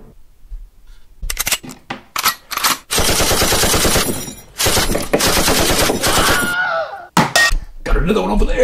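Rapid machine gun fire sound effect in a toy battle game, loud, sharp bursts with pauses between, plus metallic clatter and an excited voice chattering over the shots.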